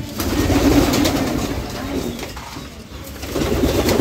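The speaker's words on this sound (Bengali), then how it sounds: "আমাদের অস্ট্রেলিয়ান ঘুঘু" Australian dove cooing close by in a pigeon-keeping setting, a run of soft low rolling coos repeating over the whole stretch, loud and near, with a faint voice in the background.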